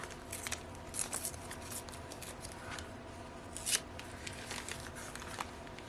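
Scissors snip through paper for a junk journal glue book, a few quiet, crisp cuts spaced irregularly over a low steady room hiss.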